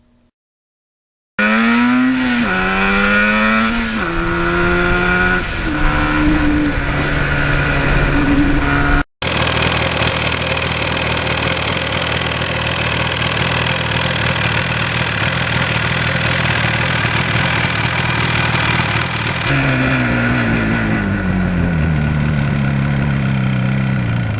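A 1977 Yamaha RD400 motorcycle engine drones loudly and close, with pitch shifts as it rides through a puddle, followed by a long steady run and a falling pitch near the end.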